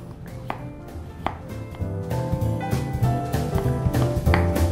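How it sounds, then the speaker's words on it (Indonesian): Ginger being chopped with a knife on a board, a quick run of close, crisp knocks in an uneven rhythm, loud and without voices. "Cincang jahenya."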